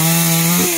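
A chainsaw cuts into the base of a golden-flowered acacia (tràm bông vàng) tree, its engine a loud steady buzzing drone close by that shifts pitch slightly near the end as the chain bites.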